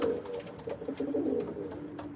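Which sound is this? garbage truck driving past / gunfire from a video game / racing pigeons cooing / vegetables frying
racing pigeons cooing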